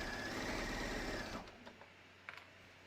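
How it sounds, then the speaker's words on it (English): A sewing machine stitches fabric for a mock turtleneck neckline in a steady, fast whir for over a second, then stops, followed by faint clicks and handling sounds. "Notice I'm sewing inside the circle so I can see everything and nothing's getting caught underneath."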